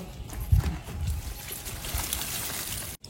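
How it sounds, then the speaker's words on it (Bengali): Water poured from a container onto a garden plant outdoors, a soft trickling splash with a few louder gushes early on, fairly faint and steady under light background noise. "এই দেখো বন্ধুরা, এই গাছে জল ঢালছি।"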